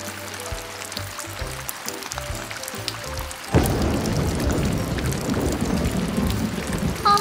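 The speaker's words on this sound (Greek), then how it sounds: "άρχισε να βρέχει" Rain sound effect for a children's storybook: after a gentle musical passage, a dense, loud downpour suddenly begins and continues as steady hissing rainfall.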